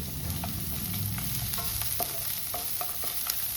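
Cashews and chillies fry in oil in a pan, a close steady sizzle with repeated scraping taps of a spoon stirring them, no voices.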